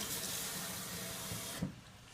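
Tap water runs steadily into a bowl for warming a bread yeast bowl, a soft continuous rush that cuts off abruptly near the end.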